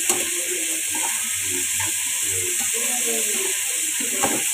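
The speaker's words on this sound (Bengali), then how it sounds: "এটা একটু ভাজতে থাকুক।" Leafy greens with turmeric fry in a pan, giving a soft, even sizzle with light stirring clinks and scrapes close by, and no talking.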